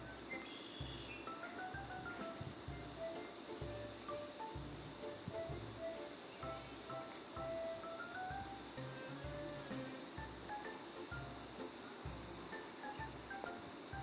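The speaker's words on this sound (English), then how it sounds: "and now I can see some waves" Waves wash onto a lake shore in a wind, a faint, steady, rhythmic lapping with low breaks repeating every second or so. There is no talk.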